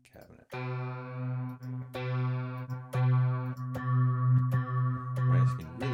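A distorted FM8 synth tone run through a guitar cabinet effect plays a series of sustained notes with a gritty, buzzy edge, each note shifting pitch with clicks between them.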